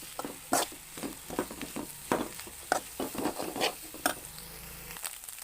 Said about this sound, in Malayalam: ഇതുപോലെ ഒന്ന് നന്നായി മിക്സ് ചെയ്തിട്ടൊന്ന് നന്നായി ഒന്ന് ഡ്രൈ ആക്കി എടുക്കാം